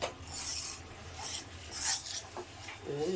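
Hot ghee is worked by hand into a laddu mixture, producing soft, close scraping and rubbing bursts in an irregular rhythm, faint and without talk.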